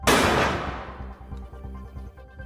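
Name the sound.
gunshot from a rifle in a film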